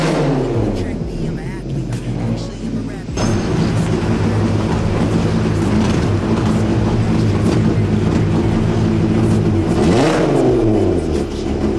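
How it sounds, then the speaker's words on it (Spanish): A car engine in poor condition runs rough and misfires, loud and close, revving up and down with an uneven low rumble while someone talks over it. "Como pueden escuchar, el auto sigue fallando y no lo pude arreglar"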